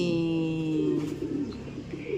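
A Thirgie Celis racing pigeon from Nasugbu, held in the hand, gives a soft, steady low coo that rises and falls over a couple of seconds, close and fairly clear with no talk over it.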